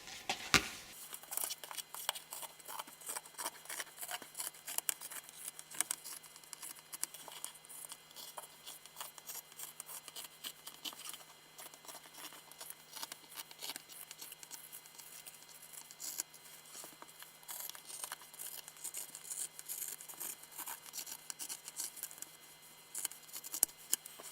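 Scissors snip steadily through fabric while cutting sleep-shorts pattern pieces, a quiet, close crisp crunching repeating in quick irregular strokes around curves, with no talking.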